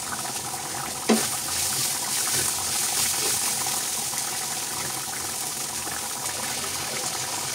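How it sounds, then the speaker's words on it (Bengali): A pan of frying food sizzles steadily, a bright hissing wash that holds even throughout, with one brief knock or clatter near the start. "কিছুক্ষণ ভেজে নিচ্ছি।"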